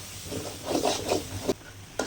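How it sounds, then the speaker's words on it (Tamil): Masala sizzles in a pan as it is stirred after salt goes in, for a fish curry. Continuous frying crackle with scraping strokes, close and alone, with no speech. "உப்பு போட்டு நல்லா பரட்டி விட்டுருக்குங்க"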